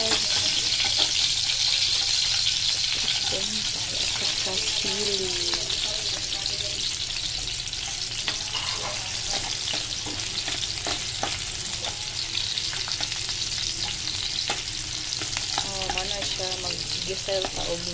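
Squid sautéing in a pan for Filipino ginisang nocos, with a steady, close sizzle and frying hiss that runs throughout, broken by scattered clicks and stirring scrapes, while faint voices murmur in the background.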